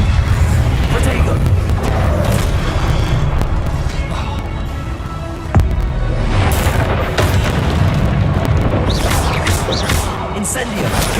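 Fiery explosion spells burst repeatedly in the Hogwarts Legacy video game, loud booming blasts and crackling impacts packed densely over a continuous roar of combat, with a sharp hit near the middle and brief voices mixed in.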